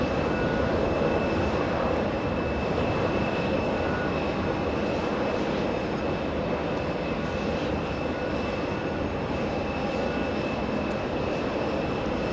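A Delta Boeing 767-400 jet at JFK airport gives a loud, steady, broadband engine roar that holds constant throughout, with no talk over it.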